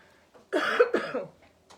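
A person coughs twice in quick succession, close and fairly loud, followed by a faint breathy sound in an otherwise quiet room.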